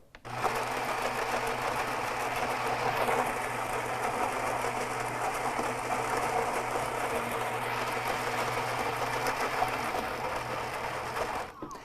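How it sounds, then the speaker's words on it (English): The built-in grinder of a Gaggia Naviglio Milk espresso machine grinds coffee beans with a steady, close mechanical whir lasting several seconds, then cuts off, heard alone. "I didn't want to talk over the grinder"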